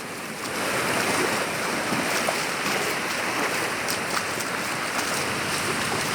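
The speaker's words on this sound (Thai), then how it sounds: "น้ำซัด" Waves washing ashore at Patong beach, a steady loud broadband wash of surf that holds constant throughout with no talking.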